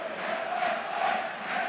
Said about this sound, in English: Mirren crowd haven't stopped singing all night.